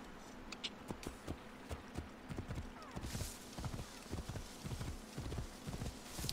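Horse hooves clip-clop in a steady walking rhythm in Assassin's Creed Origins, close and continuous, with a brief soft whinny and a hiss of ambience rising partway through.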